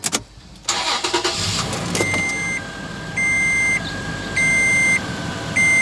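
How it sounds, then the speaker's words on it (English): A 2007–2014 Toyota FJ Cruiser with a newly replaced alternator cranks briefly and fires up, then settles into a steady idle. Repeated electronic warning chimes beep over the engine, close and fairly loud. "I'm going to go ahead and start it up and see if the battery light is still on"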